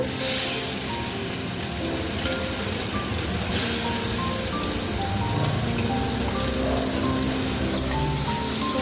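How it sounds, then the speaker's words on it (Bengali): Turmeric-and-salt-rubbed large shrimp fry in hot oil in a wok, giving a steady, dense crackling sizzle like rain on a surface that runs without a break throughout, close and fairly loud with no talking. "এখানে দেখুন কড়ার মধ্যে আমি তেল দিয়েছি আমি এটা আগে চিংড়ি মাছ দিয়ে করবো"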